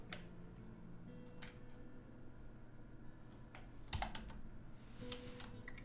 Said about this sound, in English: And then you can type in GUI